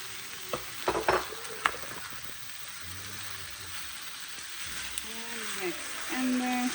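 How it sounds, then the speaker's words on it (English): Tomato and onion frying for beef fajitas, a continuous hissing sizzle with a few stirring clatters early on, while a voice talks briefly near the end. "So now we will be adding our tomato and our onion."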